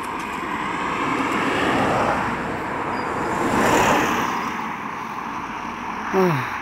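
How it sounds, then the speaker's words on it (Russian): A car passes on a narrow English road without a verge, a broad wash of tyre and engine noise that swells and fades in the open air, with a brief chirp near the end. "Сейчас машина проедет."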